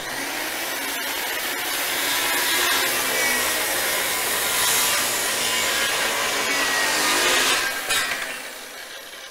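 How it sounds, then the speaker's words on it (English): A worm gear circular saw strains through a bevel cut in wood, a loud sustained whine and rasp lasting about eight seconds before winding down, with no talking. "That's a bevel cut with a worm gear saw."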